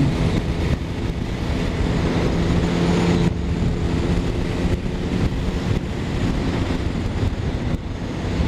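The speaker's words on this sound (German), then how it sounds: "Windig. Also das ist mehr als nur Fahrtwind hier." Strong gusty wind buffets a moving motorcycle on an Alpine tour, a loud, continuous roar of wind against the microphone that swells and dips slightly, with engine and road rumble mixed in.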